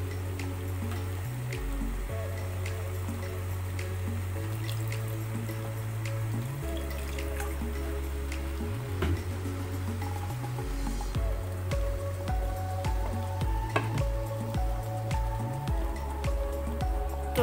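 Dal (lentils) boils in a pot on the stove, with steady soft bubbling and wet popping that continues without pause, close and fairly quiet.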